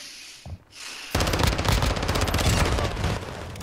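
Rapid automatic gunfire from Call of Duty Modern Warfare 2, loud and close, bursts in after a short quiet gap and a single muffled thump, then rattles continuously for over two seconds before easing slightly.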